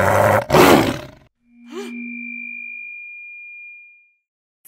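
A tiger (Panthera tigris) roar plays loudly in a museum display as a short, harsh burst lasting about a second. Pure electronic tones follow, one low and one high, sustained over near silence.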